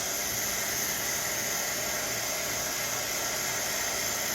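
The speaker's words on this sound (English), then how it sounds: "now I'm going to use my heat gun to just heat it up and dry it" A heat gun blows a steady, loud, unbroken hiss of hot air while drying paint on an Air Jordan 1 sneaker during restoration, with no voices over it.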